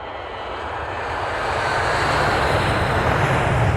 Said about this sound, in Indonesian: pesawat pun segera lepas landas.